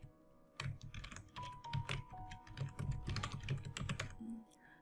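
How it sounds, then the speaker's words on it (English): Typing on a computer keyboard gives a quick, irregular patter of close, soft key clicks lasting several seconds, with faint tonal interface beeps mixed in. "you can also simply type out your signature"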